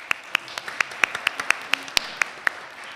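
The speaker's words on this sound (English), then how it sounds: "I think we all deserve a huge round of applause." Sparse, individual handclaps in a church service, a dozen or so sharp separate claps spaced unevenly over a quiet room, close and distinct rather than a full ovation.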